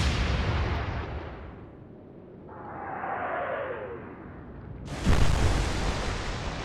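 Light cruiser guns in the naval game Atlantic Fleet: a booming salvo fading out, a falling whistle of shells in flight, then another loud blast of gunfire, with no talk.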